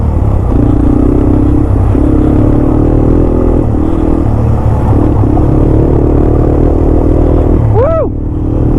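A Yamaha dirt bike rides a forest trail in a national forest, its engine loud and close, revving in rough surges with clattering bumps, ending in a quick rising rev; a rider's voice is faintly mixed in.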